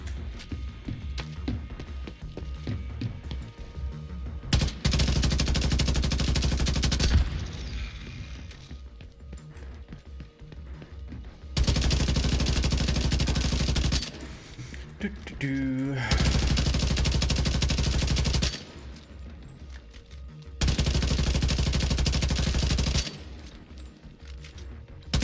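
Sustained automatic gunfire in the video game Division 2 comes in long, loud, dense bursts separated by quieter gaps, during a solo mission at the Tidal Basin on hard difficulty.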